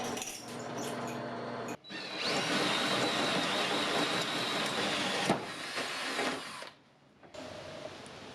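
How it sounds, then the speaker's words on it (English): A drill press runs steadily for several seconds with a loud whine, pausing briefly partway through, then stopping near the end. "We'll start at the drill press."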